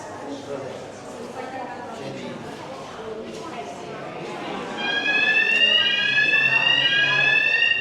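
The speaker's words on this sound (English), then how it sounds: "I did not push the fire alarm," A fire alarm rings inside the British Museum in a gallery of Egyptian carvings. It starts as a steady, loud, high-pitched electronic tone about halfway through and sounds over continuous crowd chatter and echoing room noise.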